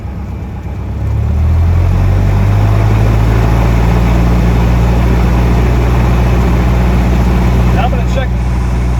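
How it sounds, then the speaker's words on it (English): A light aircraft's piston engine runs up to 1800 RPM for a magneto check before departure. The loud, steady drone climbs in the first second, then holds a constant pitch with strong low harmonics, close by and alone. "Now I'm going to set my throttle up at 1800 RPM."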